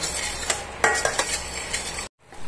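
Spices and cashew nuts frying in a pan over low heat for a green spinach fish curry, with a utensil stirring and scraping against the metal in repeated close clinks under a steady sizzle, stopping abruptly near the end.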